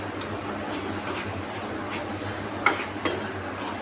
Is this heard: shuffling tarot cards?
no